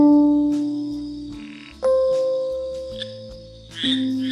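Cartoon frog croaking in a Scratch game animation, a repeated low tonal croak over a steady synthesized game tune with brief chirpy blips, clear and close.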